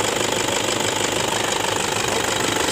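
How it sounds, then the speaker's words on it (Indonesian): A Toyota Fortuner 2KD diesel engine idles after its worn tensioner belt and idler bearing were replaced, a steady, fast, even clatter that stays close and constant with no talking. "Sekarang mesinnya udah kembali normal"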